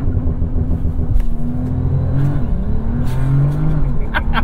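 Bentley W12 car revving hard for a launch, a loud close engine roar that rises and falls through the clip.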